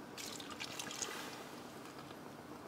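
Water poured into a ginger-garlic paste while it fries for a restaurant-style mixed vegetable curry, a soft steady trickle and splash running throughout at moderate loudness, with no talk.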